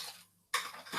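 Bread dough scraped from a bowl into a baking tin: a brief close scraping rasp, a short pause, then a louder scrape and rustle of the utensil against metal.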